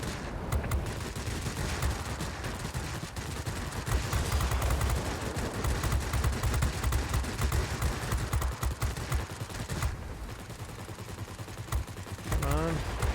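Sustained bursts of aircraft machine gun fire from a Spitfire DB605 in World of Warplanes, rapid rattling volleys nearly continuous over engine roar, with brief gaps and a voice talking over it.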